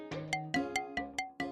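A mobile phone rings while a call is placed to Jui, a steady electronic ringtone of evenly spaced, bright tonal pulses repeating close and clear, with no voices.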